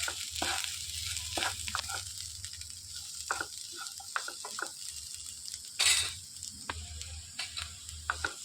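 Cluster beans fry sizzling gently in a pan while a spoon stirs and scrapes repeatedly, with irregular clicks and a louder scrape midway, close and quiet.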